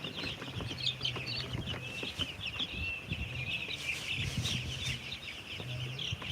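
Broiler chickens at a poultry farm in Cox's Bazar cluck and chatter steadily, a dense flock sound at moderate distance with no talking.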